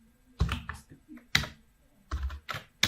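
Keys clack on a computer keyboard as a chmod command is typed, in several short clustered bursts of close, crisp taps with brief pauses between them and no talking.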